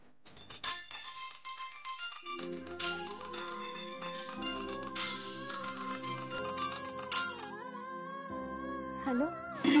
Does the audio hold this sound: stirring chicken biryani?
no